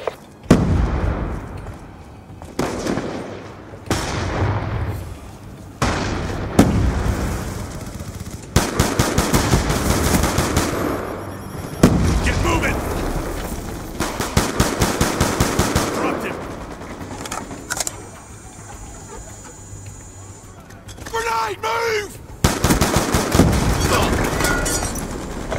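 Online multiplayer match in Call of Duty Black Ops 2, with rapid automatic gunfire bursts and heavy blasts from grenade explosions repeating throughout, close and loud, with game voice callouts in between.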